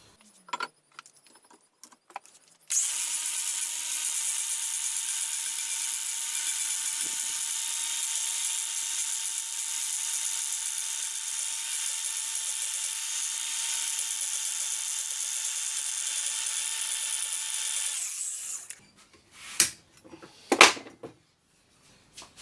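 A flat abrasive wheel grinds steadily across a manifold flange, a bright continuous high-pitched hiss held at close range for about fifteen seconds before stopping, followed by a few clinks of handling.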